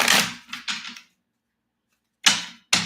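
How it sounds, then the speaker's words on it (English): Tarot cards are shuffled in quick riffling bursts: three short rustles, a pause, then two more sharp bursts, close and crisp with no talk. "One more shuffle."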